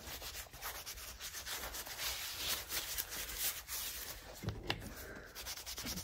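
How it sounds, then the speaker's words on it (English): A cloth rubs hard wax oil into a restored wooden treasure chest, quick irregular scrubbing strokes close up and fairly quiet, with a couple of sharper swipes near the end. "Okay, now that it's dry, I'm gonna get this hard wax oil"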